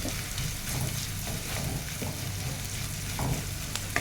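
Chopped onion and garlic fry in a pan for an eggplant chutney, making a steady close sizzle broken by a few soft stirring scrapes.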